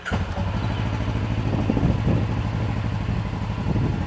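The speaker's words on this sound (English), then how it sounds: "And this is a stock KRX exhaust." Stock exhaust on a Kawasaki KRX 1000 side-by-side, idling close by with a steady, throaty mid-low drone and slight clatter, and a mild swell in the middle.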